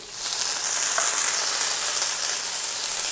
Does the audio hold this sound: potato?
yes